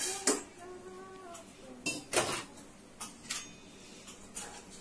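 Ingredients and water are stirred in a bowl, giving a few irregular clinks and scrapes of utensil against the bowl with quiet gaps between them, while a voice speaks faintly at moments.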